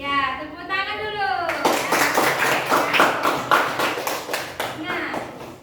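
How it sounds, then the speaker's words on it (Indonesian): Classroom of children clapping hands in a steady rhythmic series of sharp claps, mixed with a voice at the start, close and loud. "Ya, tepuk tangan dulu."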